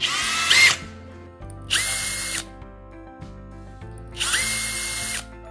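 Three loud, high-pitched power drill bursts about a second each, marking holes in wood, separated by short pauses, close to the microphone with no talking.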